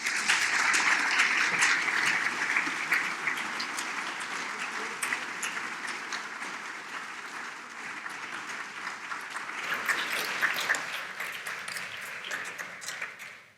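A hall audience applauds at a cultural talks event, welcoming speakers on stage: dense, sustained clapping from many hands, loud at first, easing slightly mid-way, then swelling again before fading at the end.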